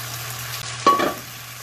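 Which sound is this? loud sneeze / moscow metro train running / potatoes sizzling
potatoes sizzling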